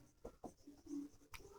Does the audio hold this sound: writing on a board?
yes